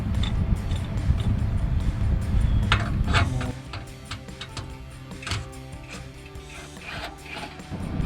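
A ratchet with a 14mm socket clicks repeatedly as it backs out a rear driveshaft bolt on a 2005-2023 Toyota Tacoma, close and fairly loud over a steady mechanical rumble, with no talking.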